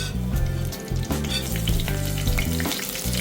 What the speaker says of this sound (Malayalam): ഇനി നമുക്ക് പച്ചമുളക് ഇടാം.